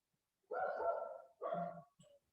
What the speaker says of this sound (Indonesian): Suara anjing, Pak, dikit.